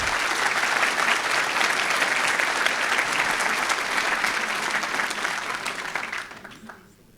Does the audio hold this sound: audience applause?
yes